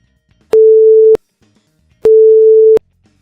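Two identical steady tones generated in Audacity sound as a pair of loud, pure beeps, each lasting just over half a second, separated by a short silence.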